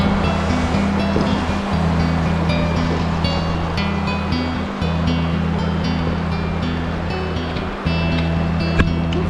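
Fast-flowing river water rushes steadily around a kayak during smallmouth bass fly fishing, a loud, continuous wash with occasional knocks and bumps, close up and without talk.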